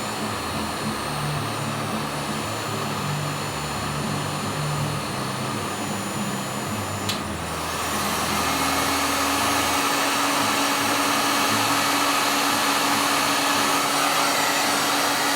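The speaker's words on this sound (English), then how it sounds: "So I'm gonna heat this one up, and then just lift it off when it melts." Hot air gun blows a steady, loud hiss onto a surface mount transistor on an Arris MTA circuit board for desoldering, its tone shifting slightly midway as the airflow changes.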